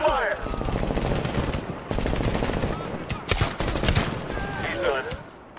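Sustained automatic gunfire and rapid bursts in Medal of Honor (2010), a PC first-person shooter, crackling loudly and close throughout, with brief sharper blasts and a shouted voice mixed in.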